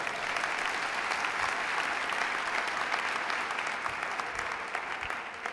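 Congregation applauding in a church service, a sustained, even bed of many hands clapping, moderately loud and heard alone without speech.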